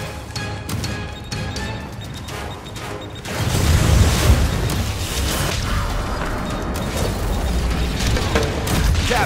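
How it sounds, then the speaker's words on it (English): Mega rocket explosions in the video game Rocket Arena: rapid clicks and mechanical bursts give way to a sustained, loud roar of booming blasts and crashing debris that continues to the end. "Incoming mega rocket."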